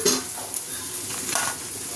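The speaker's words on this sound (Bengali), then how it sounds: "আর এদিকে আমার জন্য অল্প করে একটুখানি উচ্ছে ভাজছি পেঁয়াজ দিয়ে" Bitter gourd and onion frying in a pan, with a soft steady sizzle and a few stirring scrapes near the start, fairly close and without talk.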